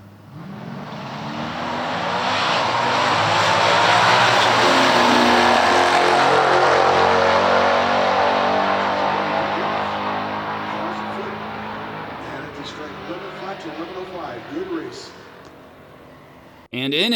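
A 1969 Corvette 427 L88 and a 1969 Camaro 427 ZL1 launch in a heads-up drag race, big-block V8s roaring loudly and building into a sustained wide-open howl that gradually recedes, with crowd or commentary noise faintly underneath.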